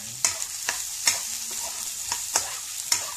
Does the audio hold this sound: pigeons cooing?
no